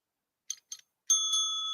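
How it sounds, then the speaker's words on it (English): Two quick small taps of a little desk bell, then a clear bright ding that rings out and sustains, sounding close and alone with no talking. "This very technically savvy bell you will get."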